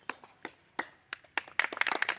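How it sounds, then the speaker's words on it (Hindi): A few scattered hand claps from an audience at a Rajdhov Sewa Samaj community gathering, welcoming an honoured guest, build into quicker, denser clapping toward the end. "ताली दियो जोर से"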